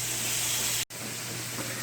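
Liver and onions brown in a hot pan, giving a close, steady sizzle and hiss with a momentary break partway through.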